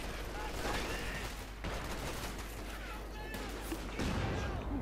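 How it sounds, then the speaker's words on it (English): Battle in the video game Company of Heroes 2: dense rattling gunfire and bursts of explosions from infantry fighting, continuous and loud throughout, with a caster's voice talking over the combat. "Good hit there with a rifle grenade."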